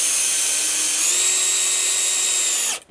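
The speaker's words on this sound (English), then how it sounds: "Just go pop in 1 screw" A power drill drives a screw into the wooden top of a sawhorse, a close, steady high whine lasting about three seconds. The pitch rises slightly partway through before the motor cuts off abruptly.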